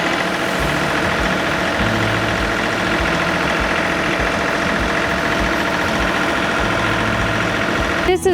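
A John Deere 3038E compact tractor engine runs steadily at a high-elevation demo, a close, continuous diesel drone with a slight knocking texture that holds even throughout, ending in a brief clatter.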